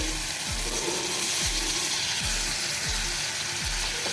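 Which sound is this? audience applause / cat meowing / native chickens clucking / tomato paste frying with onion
tomato paste frying with onion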